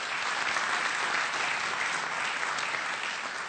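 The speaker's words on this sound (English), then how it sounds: "Clap for yourselves." Audience applauding in a hall at the close of a talk on democracy in Africa, a dense steady wash of clapping from many hands, loud and sustained throughout with no pause.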